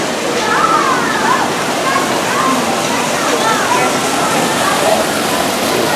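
A waterfall near Grizzly Creek Lodge at Knott's Berry Farm in Buena Park, California, a loud continuous rushing roar of falling water that fills the whole stretch, with voices faintly mixed in.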